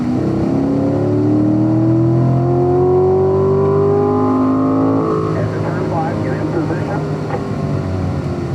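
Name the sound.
Corvette Stingray accelerating down the hill on a race track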